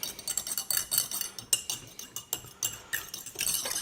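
Light, rapid clinking of a utensil against a bowl while yeast is stirred into warm milk, a steady irregular tapping rhythm, close and fairly soft.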